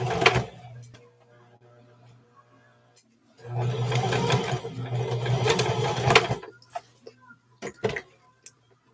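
A sewing machine runs along the seam of McCall's M4364 short pants in two bursts of steady whirring stitching, one brief and one longer, with clicks and handling noises between them and a low hum underneath.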